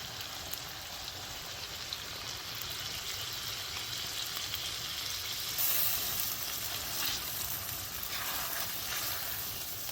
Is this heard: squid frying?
yes